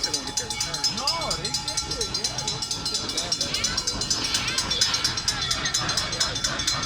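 The Serengeti Express, a green engine numbered 601 pulling green cars, rolls along with a steady rhythmic clatter of wheels over the track, heard from on board with faint voices in the background.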